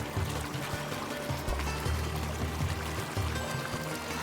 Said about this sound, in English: natural springs overflow, creating massive, multi-tiered waterfalls that crash into vibrant, tree-lined lakes